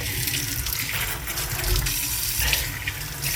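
Tap water runs steadily into a kitchen sink, rinsing away cleaning paste, a close, continuous splashing rush with slight shifts as the flow is directed around the basin.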